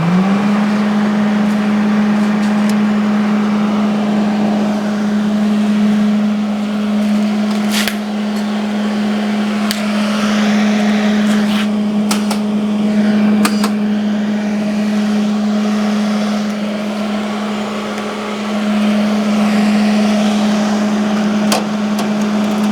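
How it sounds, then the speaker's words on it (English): An angle grinder cutting into a heavy recovery winch, running loud and close as a steady droning whine that holds for over twenty seconds with small dips in load, no voices. "let me hit that with the grinder"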